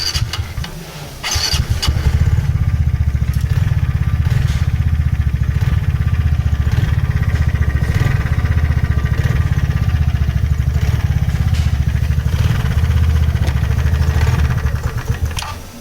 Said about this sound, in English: center point bolt was in damaged condition, scoring mark which is fouling with cam chain and making noise